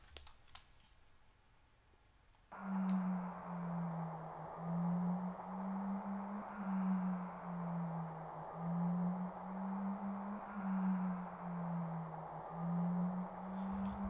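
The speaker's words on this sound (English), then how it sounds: "And that is the sound of the planet dying." A low, wavering electronic drone with a hissing wash over it, the planet's dying scream in Final Fantasy VII, starting after a quiet moment and holding steady and loud to the end.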